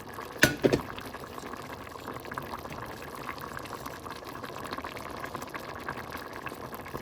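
A utensil clatters sharply against a pan as boiled jackfruit seeds, zucchini and masoor lentils are stirred. A soft, continuous bubbling and simmering follows at moderate volume.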